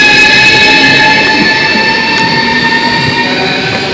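A passenger train rolls steadily through Lazarevskaya station near Sochi, its carriages loud and close, with a sustained metallic wheel squeal ringing over the rumble of the cars.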